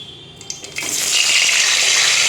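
Potato pieces, cut large for chicken dum biryani and rubbed with salt, drop into hot oil with a few small splashes, then a loud, steady frying hiss builds and holds close by.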